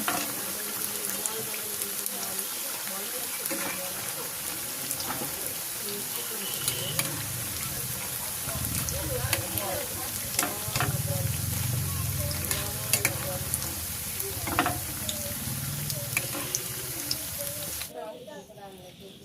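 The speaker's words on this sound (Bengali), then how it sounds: "এই যে দেখেন সবগুলো সুন্দর করে এরকম লাল লাল করে ভাজি করে নেব" Taro stems with ground peanut paste fry in hot oil with a steady, close sizzle, broken by scraping and stirring clatter and occasional louder crackles before the frying stops abruptly near the end.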